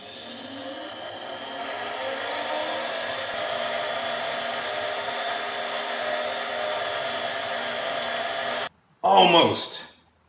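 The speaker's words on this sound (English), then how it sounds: "I'm gonna drill the second one" A steady, loud mechanical whine of a power drill grinding through a metal bushing for a Honda CRX runs for several seconds, then stops abruptly before a short burst of clattering.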